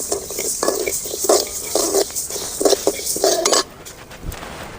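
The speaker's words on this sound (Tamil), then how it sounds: "பொன்னிறமாக வறுத்துக்கணும்." Coriander seeds dry-roasting in a pan while being stirred steadily, with repeated scraping and clinking of utensil against metal over a faint sizzle, close and fairly loud, stopping near the end.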